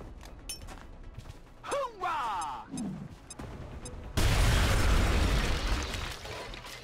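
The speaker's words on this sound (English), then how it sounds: "Grenade." In the video game XCOM: Enemy Within, a few clicks and a rising-and-falling whistle give way to a grenade explosion, a loud, broad blast that rumbles on for several seconds, with a voice heard earlier.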